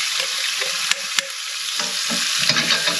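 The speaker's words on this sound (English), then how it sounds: "it doesn't take much heat to get that all in with our sofrito" Sofrito sizzles and crackles steadily in a hot pan, with a few sharp clicks and scraping stirs close by.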